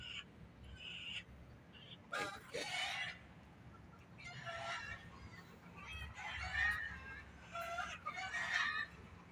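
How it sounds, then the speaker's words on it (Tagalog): Backyard chickens cluck and a rooster crows in scattered bursts over a quiet outdoor garden background, fairly faint and at a moderate distance. "May ingay yung mga alaga namin manok."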